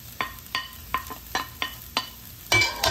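Shredded cabbage and capsicum with boiled chicken being stir-fried for chicken spring rolls, a spatula scraping the pan in steady repeated strokes about every third of a second over a faint background sizzle, ending in a louder burst of frying.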